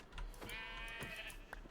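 A sheep bleats in the Minecraft video game, a few short wavering calls heard fairly faintly over quiet game ambience, with no talk.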